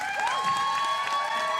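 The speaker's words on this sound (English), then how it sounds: "Big round of applause." Continuous audience applause at a live music broadcast, with a sustained tone ringing over the clapping.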